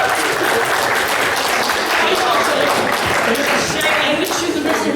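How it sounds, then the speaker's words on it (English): Steady applause from a crowd at a fan convention quiz fills the whole stretch, dense and continuous clapping at close range without letting up. "Give her a round of applause."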